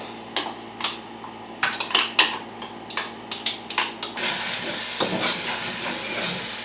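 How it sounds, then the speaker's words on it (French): Onions frying in a pan while cooking: a few sharp clinks and clatters of the pan and utensil, then a loud, steady, close sizzle that fills the rest. "Je vais faire revenir mes oignons."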